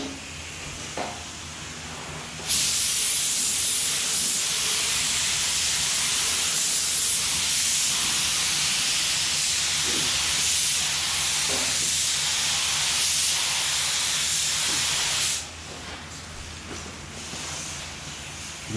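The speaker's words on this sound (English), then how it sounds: "we are ready to put some paint on this thing" A spray gun lays base coat paint onto a car panel in a bodyshop repair, a loud steady hiss running unbroken for about thirteen seconds before cutting off, with faint handling noises around it.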